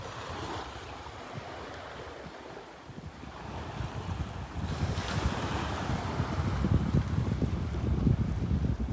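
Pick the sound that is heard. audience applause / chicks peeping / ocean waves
ocean waves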